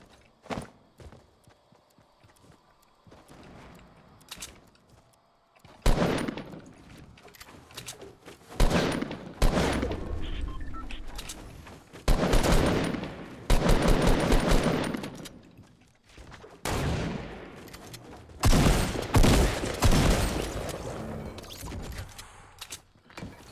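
Bursts of sniper and rapid gunfire in the video game Fortnite come in several loud volleys separated by quieter stretches of footsteps and game ambience.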